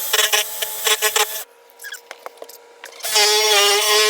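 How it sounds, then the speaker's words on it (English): A drill bites into a wooden kitchen cabinet in short rough bursts, then pauses amid small clicks before a longer steady grinding run. "Now I gotta drill a hole to get the electrical cord."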